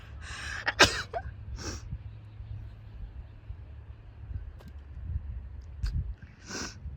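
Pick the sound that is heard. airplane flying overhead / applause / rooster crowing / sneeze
sneeze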